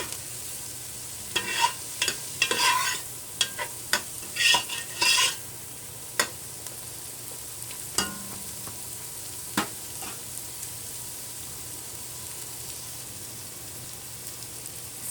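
A Trini corn soup base simmers in a pot, with a steady low bubbling and sizzle broken by scattered clinks and stirring scrapes, heavier early on and sparser later.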